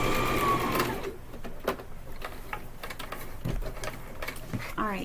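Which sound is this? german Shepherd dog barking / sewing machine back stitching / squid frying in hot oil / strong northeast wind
sewing machine back stitching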